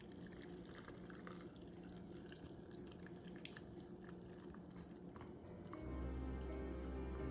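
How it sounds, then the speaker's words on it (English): Hot pickling brine, just boiled and simmered, poured from a pot over sliced cucumbers for bread and butter pickles: a faint, continuous trickling fill of liquid that swells into a fuller pour in the last seconds. "I'm just going to pour it over the pickles, the cucumbers"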